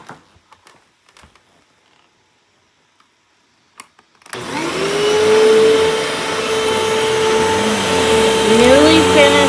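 A refurbished Hoover vacuum cleaner switches on after a few seconds of quiet handling clicks. It then runs loud and close with a steady motor whine, and the pitch bends slightly near the end.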